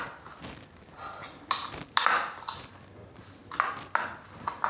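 A spoon mixing a biscuit mixture in a bowl makes irregular clinks and scraping strokes, close and moderately quiet, with no talking.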